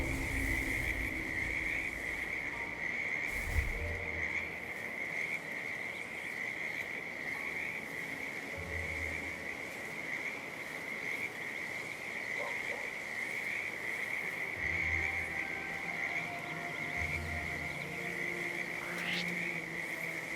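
Frogs croak in a creek-side habitat in Hitman 3's Whittleton Creek, a steady chorus layered over a constant insect buzz, with deeper croaks recurring every few seconds across a long, moderately quiet stretch.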